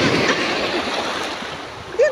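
Steady broadband surf roar of ocean waves at night fills the clip, with a brief louder splash near the end.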